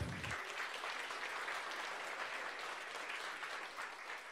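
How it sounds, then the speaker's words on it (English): Seminar audience breaks into a round of applause, a dense, even hiss of many hands clapping that holds steady throughout at moderate distance, starting just after a brief low thump. "Give Valerie a round of applause"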